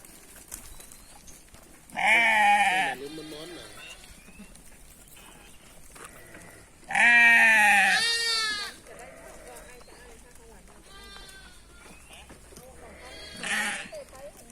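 Sheep on a goat and sheep farm give three loud, close bleats, the second long and wavering, with quieter farmyard sounds and faint voices in between.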